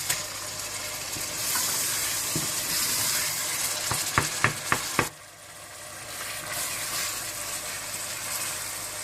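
Tomato puree sizzles in a pan of fried kofta masala with coriander powder and red chili, a steady frying hiss broken by a quick run of spoon clinks before it briefly softens and then resumes.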